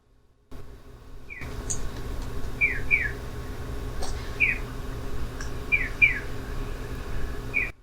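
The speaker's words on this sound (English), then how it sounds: "That is it, just chirping." A small bird in Japan gives short, high chirps in loose pairs, repeated several times at moderate distance over a steady outdoor background hum.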